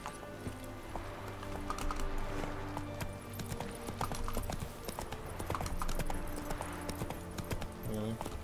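Rhythmic clip-clopping of horse hooves in The Witcher 3: Wild Hunt, steady and close, set against a layered game soundtrack with music tones.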